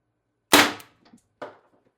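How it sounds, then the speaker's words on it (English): An Umarex TR50 HPA air rifle at 1100 psi fires a .50 caliber steel ball bearing into half-inch plywood, giving one loud, sharp crack with a brief rattle, then a smaller second thump. "We're going to be shooting through 1/2 inch plywood, 50 caliber"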